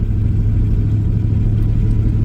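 A truck engine idles steadily in bitter cold, a close, even low rumble with a faint mechanical hum and no voices over it.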